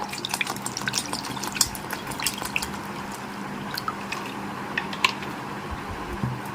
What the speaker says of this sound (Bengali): একটা বাটির মধ্যে আমি জল রাখছি কিছুটা